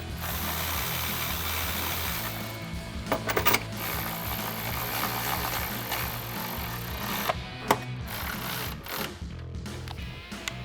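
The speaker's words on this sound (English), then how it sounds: "use a 13mm socket to tighten it down" A ratchet fitted with a 13mm socket tightens the bolts on a truck's drop-step running board bracket, giving close mechanical clicking over a steady background hum, with several short sharp clacks and taps.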